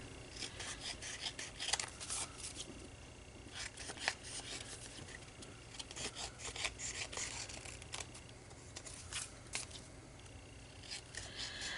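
Scissors trim excess paper from the edges of a handmade flip folder coated in collage medium, giving close, steady rasping snips and rubbing strokes in an uneven rhythm, with no talking.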